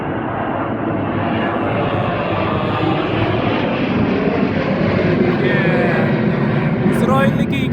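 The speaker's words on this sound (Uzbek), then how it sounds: "Yevroylan samolyoti ekan, uchib ketdi ana" Airliner taking off and climbing away from an airport, a loud sustained jet engine roar heard from nearby that stays strong throughout, with a person speaking over it.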